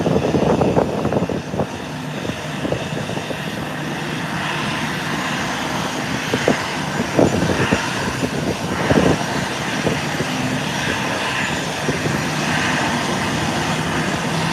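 An American Airlines jet from Philadelphia taxis into its parking stand at the airport, a steady mid-level engine whine and rumble with scattered knocks and bumps of ground activity around it.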